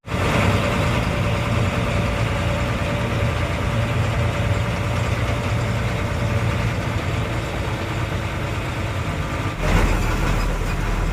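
A water tanker truck's diesel engine runs steadily at close range, a continuous low rumble and drone with no talk, shifting briefly near the end as the truck moves off in reverse.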